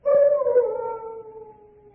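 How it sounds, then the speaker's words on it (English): Large dogs howl at a chateau in a radio drama sound effect: a single drawn-out, mournful howl that starts loud, slowly sinks in pitch and fades away over about two seconds. "What was that? Only the dogs, monsieur."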